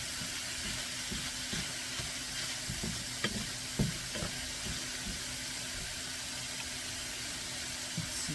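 Ground meat sizzles and fries in a pan, a steady soft crackle with scattered scraping clicks from stirring and chopping, close and alone without talk.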